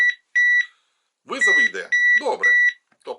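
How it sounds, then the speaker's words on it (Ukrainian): A cordless phone handset set down on its base gives two short, bright electronic beeps alone, followed by three more beeps under a voice talking nearby. "Ось я її кладу на базу. Вона пікнула все."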